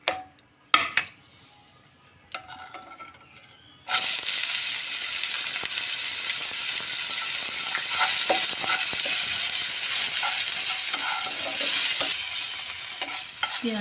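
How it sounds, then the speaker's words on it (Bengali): Dried red chillies and chopped onion frying in oil in a wok, starting after a few quiet knocks with a sudden loud sizzle that holds as a steady, close hiss with occasional stirring scrapes. "এবার লঙ্কাটা, শুকনো লঙ্কা একটু ভেজে নিচ্ছি, আর ভেজে নেব পেঁয়াজ কুচানোটা।"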